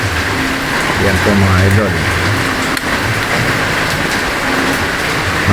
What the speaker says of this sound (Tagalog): Masyadong maulan.